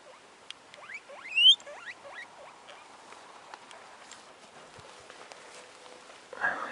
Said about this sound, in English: These are the 4 little male guinea pigs that we put by themselves